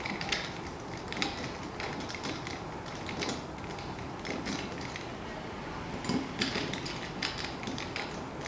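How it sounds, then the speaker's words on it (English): Phillips head screws being backed out of a Craftsman path light fixture lying on its back, giving soft, close ratcheting and creaking mechanical clicks over a steady faint background hiss. "turn the fixture on its back and remove the Phillips head screws"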